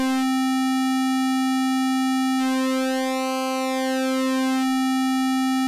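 Synthesizer pulse wave holds a steady pitch while its pulse width sweeps, so the buzzy timbre thins and shifts in the middle and then settles back; the tone is continuous, loud and alone.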